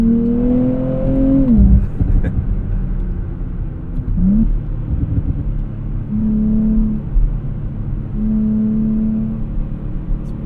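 A 2024 Nissan Z Nismo engine revs and pulls hard on a winding road, the tone sweeping up and dropping between gear changes, with a steady close rumble and a few brief lower-pitched dips.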